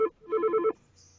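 An office telephone ringing in a short electronic burst of repeated warbling tones, close and fairly loud, alone with no speech.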